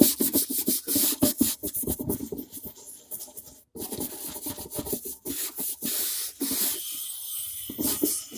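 A keris heirloom blade is brushed during a traditional cleaning, with repeated close scrubbing and rubbing strokes in uneven bursts and brief pauses between them.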